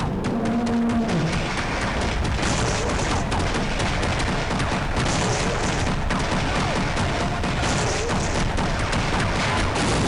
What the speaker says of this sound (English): That's a tank.